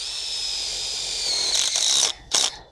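A power drill drives a screw into a gothic caterpillar tunnel bow: a steady high whine that rises slightly, then strains and stops in two short bursts, close and alone.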